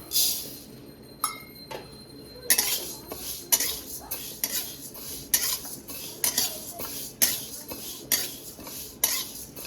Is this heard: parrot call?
no